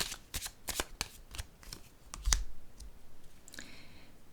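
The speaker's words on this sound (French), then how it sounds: "Je vais piger une carte." Tarot cards shuffled by hand, a quick run of crisp riffling flicks and soft slaps, close and fairly quiet, with no talking.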